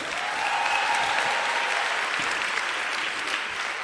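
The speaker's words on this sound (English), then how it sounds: "I think we should clap for the Lord." A congregation at an RCCG UK youth gathering claps steadily for the Lord, a full, even round of applause filling the hall for a few seconds.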